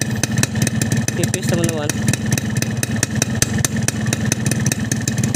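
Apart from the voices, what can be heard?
motorcycle engine with LRF Elite Pro exhaust idling, revving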